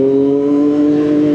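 675SR-R motorcycle engine revving steadily up close, a loud, sustained droning buzz with strong even harmonics and no voices.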